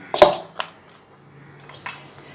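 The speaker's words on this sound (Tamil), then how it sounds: "இதை வந்து நம்ம வேறு பாத்திரத்தில் போடலாம்." Sathu maavu puttu is moved into another vessel in a kitchen, giving a sharp clink of metal utensils, a lighter tap, then a couple of soft scraping knocks. The sounds are close and sparse, with no talking.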